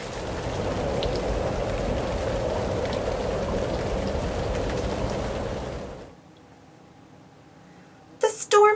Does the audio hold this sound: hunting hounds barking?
no